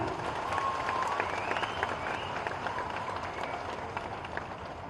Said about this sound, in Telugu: అందరు చప్పట్లు కొట్టండి గట్టిగా.